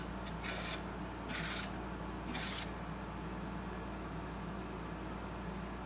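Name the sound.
ratchet snugging a bolt on a Shapeoko CNC router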